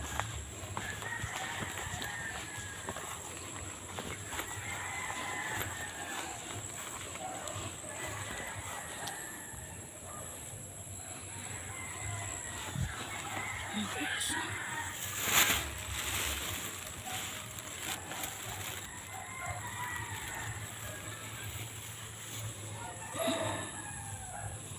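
Chickens and roosters near a farm on a mountain walking trail, crowing and clucking at varied distances over a steady outdoor hum.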